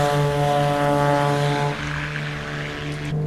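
Twin piston engines of a Beechcraft B60 Duke in a flight simulator drone loudly and steadily during the climb after takeoff, with a strong harmonic hum that eases slightly in pitch partway through.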